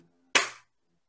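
One crisp hand clap, close and isolated against near silence, with a quick sharp attack and brief decay.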